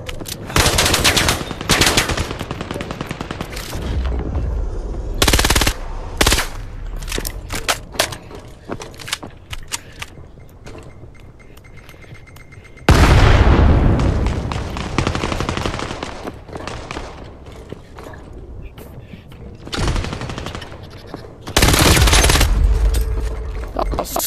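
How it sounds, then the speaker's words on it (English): Gunfire in the VR shooter Vail VR: rapid machine-gun bursts and single shots in loud clusters, separated by quieter stretches, with heavy, close, booming volleys repeating throughout. "Where am I getting shot from?"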